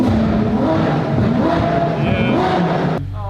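A Ferrari 458 engine revs hard and loud, its pitch rising and falling in a strained, sustained roar that cuts off abruptly near the end.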